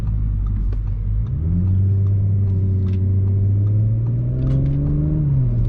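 A 2020 Audi S4 drives and accelerates from inside the cabin, its engine note rising smoothly in pitch over a steady road rumble, with no talking.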